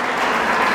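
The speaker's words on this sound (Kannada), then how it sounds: "ಬನ್ನಿ ಒಂದು ಚಪ್ಪಾಳೆ" Applause from an audience at a parents' refreshment event in Yelahanka, a dense, steady burst of hand clapping, loud and close, brief and without talk.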